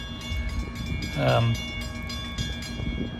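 A Norfolk Southern local freight train made up entirely of autorack cars rolls past near Decatur, Alabama, with a continuous rumbling roll and a brief horn blast partway through.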